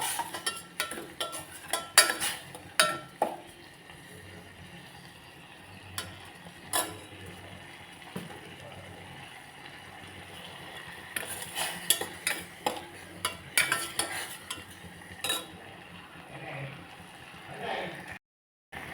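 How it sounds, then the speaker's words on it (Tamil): A spoon clinks and scrapes against a pan as melting jaggery is stirred for masala tea, with irregular metallic taps and scrapes in bursts over a quiet background. "கிளறிட்டே இருக்கு."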